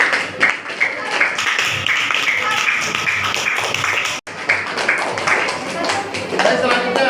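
Classmates clap for a fellow student in a school classroom, a scattered patter of hand claps running several seconds alongside murmuring voices, broken by a brief dropout partway through.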